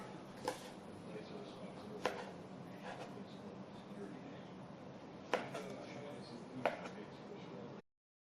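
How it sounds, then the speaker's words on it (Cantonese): A knife cuts strawberries into small pieces on a board, giving a few sharp, isolated chops spaced seconds apart, quiet and near. "啲士多啤梨咧，我哋就切一粒粒"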